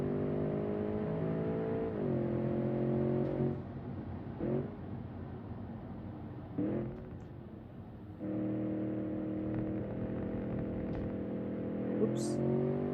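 Engine of a heavy Lada car with a trailer hitched behind in the Automation driving game, a steady droning hum that rises and shifts with gear changes and dips in the middle, heard alone without talk.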